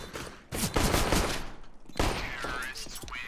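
Rapid bursts of automatic gunfire from the player's weapon in a multiplayer shooter game, loud and close in two main volleys, with brief speech-like chatter mixed in.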